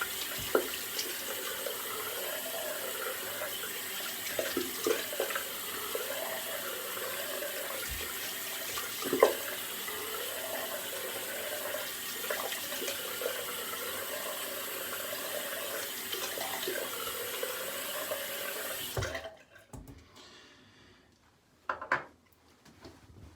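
Water runs steadily from a tap for a rinse after shaving, a continuous close splashing flow that stops abruptly near the end, followed by a few brief small splashes and knocks.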